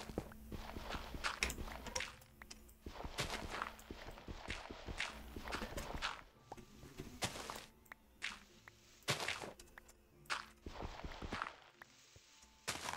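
A horse's hooves clip-clop in the Minecraft video game, with irregular bursts of close, loud hoofbeats and thuds that come and go over about thirteen seconds, with no talk.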